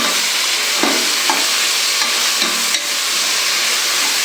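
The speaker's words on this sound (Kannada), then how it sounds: "ಟೊಮೊಟೊ ಇದ್ದೀನಿ ಒಂದ್ಸತಿ ಚೆನ್ನಾಗಿ ಮಿಕ್ಸ್ ಮಾಡಿ" Vegetables with tomato and chili powder fry in a pan for vegetable bath, a steady close sizzle broken by a few sharp spatula scrapes and stirring strokes.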